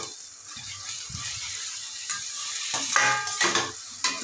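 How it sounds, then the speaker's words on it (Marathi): Onion frying in oil in a pan for pav bhaji, a soft steady sizzle with a few scrapes and stirring clinks near the end, fairly quiet and with no talking. "कांदा लाल होईपर्यंत आपल्याला इथं भाजून घ्यायचा आहे, व्यवस्थित फ्राय करायचा आहे तेलामध्ये."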